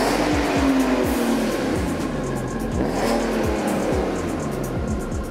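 Alfa Romeo 147 GTA driving hard, its engine revving up and down through repeated gear changes with a rising whine, loud and close for the whole stretch with no talk.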